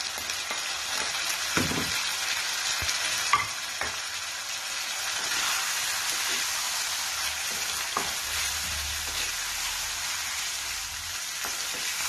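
Chicken, onion, ginger, garlic and green chillies fry over high heat in a karahi, giving a steady, loud sizzle throughout with occasional scraping knocks from stirring.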